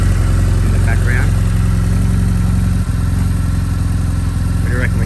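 A BMW R1100S Boxer Cup motorcycle with its boxer twin engine running at a steady, loud, close idle, a deep throbbing pulse heard outdoors by the water, with a brief dip near the middle.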